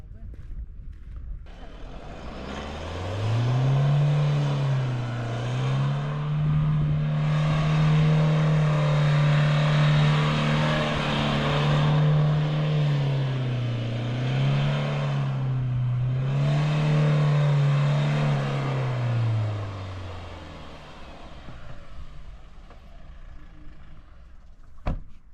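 A Mahindra Thar revs steadily while spinning in circles outdoors, its engine note rising and dipping in a wavering drone for about sixteen seconds before dying away. Voices can be heard faintly around it.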